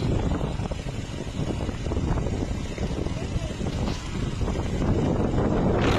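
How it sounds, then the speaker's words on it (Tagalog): Strong wind roars and buffets the microphone in a constant heavy rumble near windmills in Ilocos Norte, with a voice talking faintly underneath. "Ang lakas ng hangin guys, grabe."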